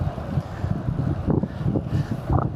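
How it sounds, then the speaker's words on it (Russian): Steady broadband wind rumble buffets the microphone of a cyclist riding a long road route, gusting continuously across the whole stretch with low, roaring swells and no talk. "Ветер."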